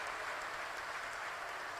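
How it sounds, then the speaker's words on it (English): An audience at a panel discussion applauds, a dense, continuous wash of many hands clapping at once, loud and steady from start to finish without any talk over it. "May we have a round of applause for Krishna Patil."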